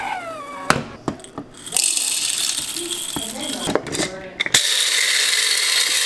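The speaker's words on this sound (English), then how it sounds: "That is so much better to grind with an actual electric grinder." An electric grinder whirs loudly through coffee beans set to a coarse grind, in long steady bursts broken by short mechanical clicks and rattles.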